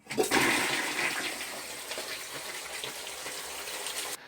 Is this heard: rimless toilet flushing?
yes